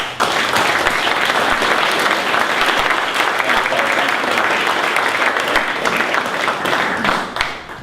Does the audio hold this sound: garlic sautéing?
no